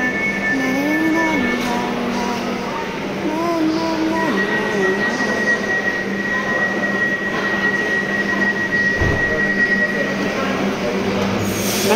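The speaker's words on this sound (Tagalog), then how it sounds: "Merong train, pero puno na yun." Train at a station, with steady rumbling and metallic wheel squeal tones, heard up close amid a busy platform, with people talking now and then.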